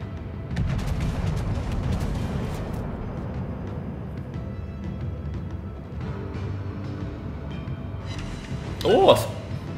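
Heavy naval guns of the battleship Wyoming in World of Warships boom in deep, rolling blasts beneath steady talking, with a sharper crack near the end.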